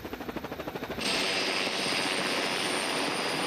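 The Air 5 medical rescue helicopter flies close and loud. A rhythmic rotor chop at first swells into a dense, steady roar of rotor and engine, with no voices over it.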